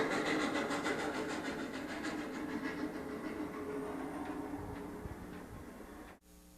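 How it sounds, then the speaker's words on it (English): A scale model steam train running along its tracks, a steady rhythmic clatter with hissing and ticking that stays fairly close and moderately loud before slowly fading, then cuts off abruptly near the end. "Sounds like a train is coming."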